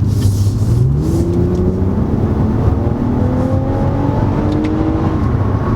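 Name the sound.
car engine revving and upshifting in manual mode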